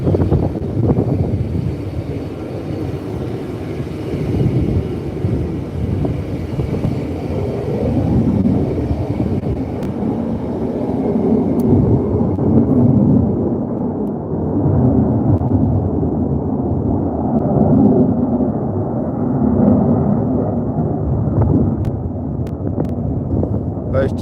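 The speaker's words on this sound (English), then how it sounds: "So they have the typhoons from RAF Coningsby, you can hear." RAF Eurofighter Typhoon jets from Coningsby roar overhead near Peterborough, a loud, sustained, rumbling jet noise that swells and lingers across the whole stretch with wind buffeting the microphone.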